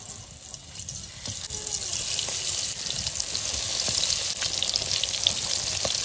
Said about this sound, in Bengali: এবার বেগুনগুলো ভেজে নেব।